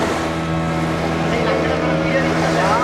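A boat's motor drones steadily over rushing sea water off Pondicherry, with wind noise and a voice faintly mixed in, close and continuous.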